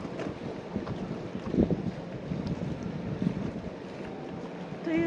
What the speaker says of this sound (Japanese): でも風が強いんだよな。